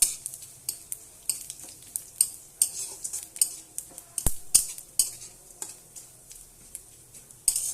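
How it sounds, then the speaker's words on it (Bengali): Panch phoron spices frying in a pan for a ripe mango dish, stirred with a metal spoon that makes a steady run of sharp clinks and scrapes against the pan over a faint sizzle. "তো এখানে আমি 5 ফোড়নও দিয়ে দেব। তো ভালো করে ভেজে নেব লাল করে।"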